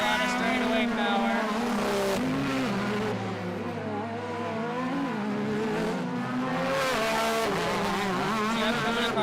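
Side-by-side race vehicles roaring around a dirt track, engines droning and shifting pitch as they pass, with race commentary talking over the steady engine noise.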